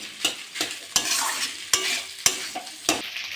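Boiled potato being mixed into a cauliflower chop mixture in a pan, a series of sharp spatula scrapes and thumps at an irregular beat over a soft sizzle, close and clear.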